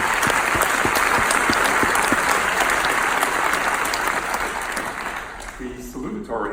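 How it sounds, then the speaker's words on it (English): Audience at a graduation ceremony gives a sustained round of applause, loud dense clapping from a large crowd that holds steady, then begins to thin near the end as a voice starts speaking. "We can give her a round of applause in her absence."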